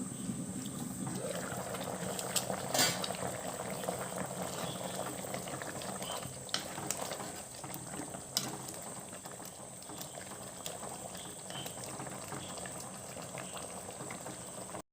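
A prawn roast simmers in a covered pot, bubbling softly and continuously at low volume for the whole stretch, with a few faint clicks and no talking.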